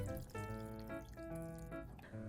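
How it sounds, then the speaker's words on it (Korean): Soy sauce brine pours into a glass bowl of soaked celtuce and chilies, a soft continuous splashing stream under background music. "그릇에 간장물을 부으면 완성!"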